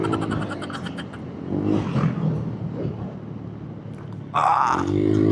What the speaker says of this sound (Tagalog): Ganda pa rin ang takbo ni Honda Click.